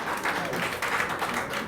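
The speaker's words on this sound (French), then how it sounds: "je m'en vais vous demander d'applaudir une personne avant de parler" Audience at a Senegalese singer's press conference in Dakar applauding, a dense, even patter of many hands clapping at moderate volume throughout.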